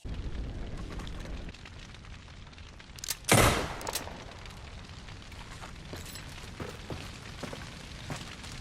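A single loud gunshot blast fired to shoot a hat off in Red Dead Redemption stands out from a low, rumbling outdoor background, followed by a few fainter pops and rattles.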